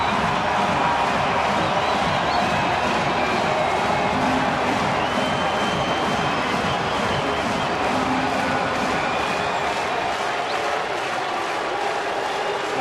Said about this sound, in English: the pitch level of the crowd just went up again